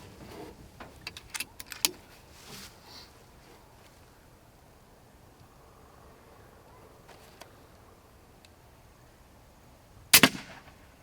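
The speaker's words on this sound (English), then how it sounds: "It's the first time I'm actually shooting at clay with those slugs" An airgun fires a slug into a block of clay outdoors: one sharp, loud crack near the end, preceded by scattered small clicks and handling noises over quiet background.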